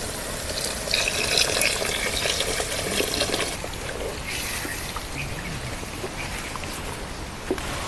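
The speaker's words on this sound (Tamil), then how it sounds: "தண்ணி ஊற்றியும் தேவையான அளவு." Water is poured into an eggplant oil-gravy curry being cooked in a village setting, giving a soft continuous splashing and filling sound at low level, with birds faintly audible outdoors.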